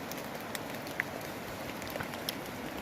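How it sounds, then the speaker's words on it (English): Spring rain falls steadily on a backpacking trail in Dolly Sods, giving a constant, even hiss with a few faint drop ticks and no voices. "Rain's still falling."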